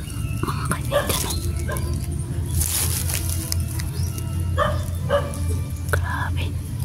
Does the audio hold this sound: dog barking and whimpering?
yes